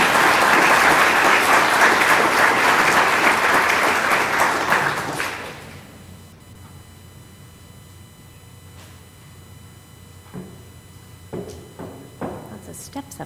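Audience applause welcoming a speaker to a keynote address on stopping mass atrocities, loud and sustained for about five seconds before fading out, followed by quiet room noise with a few footsteps and thumps.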